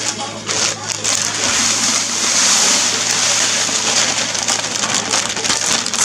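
Malted grain for a Cascade pale ale homebrew is poured into hot mash water, making a steady, close rushing hiss and patter like heavy rain that lasts the whole stretch without a break.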